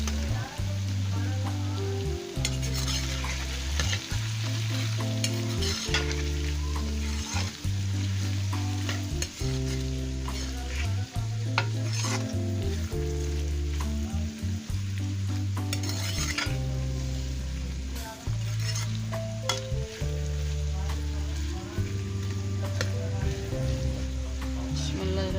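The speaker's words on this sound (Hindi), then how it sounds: "ये प्याज शामिल कर रही हूँ।" Onions for a chicken liver and bitter gourd dish fry in a pan with a continuous sizzle and frequent scraping stirs, heard close beneath steady background music throughout.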